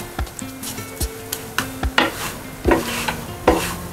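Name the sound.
roasting onion cheese paratha on a pan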